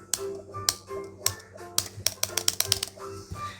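Uneven bursts of clacky computer keyboard key presses during game play, sharp taps in quick clusters with short pauses, close and crisp.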